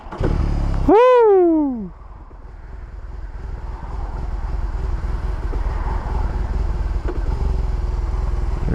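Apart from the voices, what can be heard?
BMW R 18 motorcycle engine starting and running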